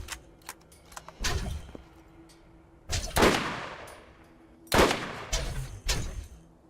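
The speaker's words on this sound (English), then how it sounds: "And that was a gun turret" Gun turret firing in Borderlands: several sharp broadband shots spaced a second or two apart, each with a decaying tail, over a low game hum with small clicks between bursts.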